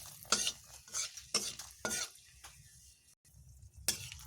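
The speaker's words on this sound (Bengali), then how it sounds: "এবার আমি এখানে ফোড়ন দিয়ে দিলাম গোটা গরম মশলা, এলাচ, একটি শুকনো লঙ্কা ও একটি লবঙ্গ" Whole garam masala, cardamom, a dried red chili and a clove tempering in hot oil in a pan, heard as faint, soft sizzling broken by intermittent scraping and stirring knocks of a utensil against the pan.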